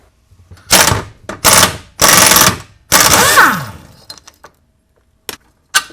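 A socket wrench with a short extension works a bolt on the trailing arm of a 2002-06 MINI Cooper, giving several loud bursts of metallic ratcheting and clanking separated by short gaps, then a few faint clicks.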